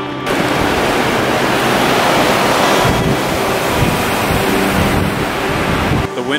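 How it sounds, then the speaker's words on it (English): Strong wind roars and buffets the microphone continuously at a crashed WWII bomber site, a loud rushing noise with gusty swells throughout. "It is incredibly windy right now."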